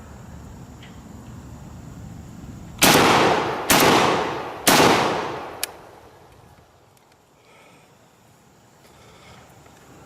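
An AR-12 12 gauge shotgun fires 2 3/4 inch shells in three loud, close blasts about a second apart, each trailing off into outdoor echo before quiet ambience returns.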